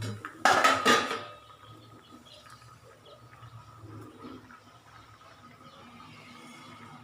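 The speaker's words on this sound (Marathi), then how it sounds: "आता हे झाकून ठेवते बघा असं।" A metal lid clatters onto a cooking pot of coconut rice, a sharp double clang near the start, followed by quiet kitchen ambience.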